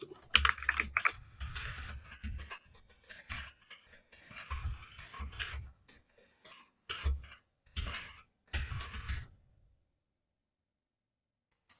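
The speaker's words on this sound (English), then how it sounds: "Or I'm typing again on the other screen." Someone types on a computer keyboard nearby in irregular bursts of clicking keystrokes, with pauses between runs, and the clicks stop near the end.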